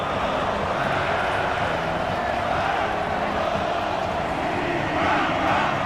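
Crowd noise in an American football video game during a playoff game, a dense continuous roar of cheering fans that swells slightly near the end.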